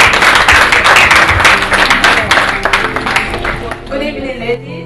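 An audience claps and applauds, a dense burst of many hands that thins out and fades toward the end, with a voice speaking over the tail.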